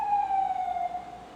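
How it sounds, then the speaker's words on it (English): An emergency vehicle siren wails outside, one steady tonal note with harmonics drifting slightly downward as it passes, fairly faint and clear of speech. "Damn sirens. I hate sirens."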